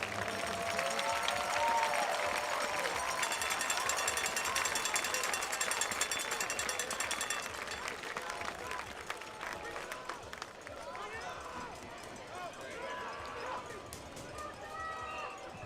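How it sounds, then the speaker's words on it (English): Crowd applause at a high school football game, broad outdoor clapping and cheering that swells then tapers off, with some voices in the stands. "Let's have another round of applause for all of our survivors down there tonight."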